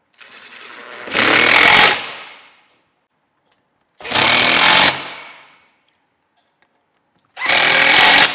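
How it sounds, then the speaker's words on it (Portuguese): Power screwdriver driving screws into wardrobe panels during furniture assembly, three loud close bursts of whirring lasting about a second each, separated by silence. "Vou parafusar todos eles aqui, para mim já ter o ponto ideal."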